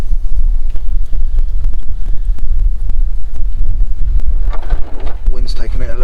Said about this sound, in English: Wind's taking it a little bit.